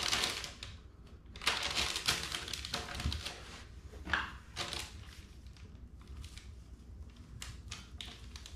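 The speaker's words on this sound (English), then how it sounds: "And then you just want to cut this circle out with your box cutter." A box cutter slices a circle through peel-and-stick vinyl floor tile in a small bathroom, giving scattered scraping and crunching strokes and taps close by, with no talking.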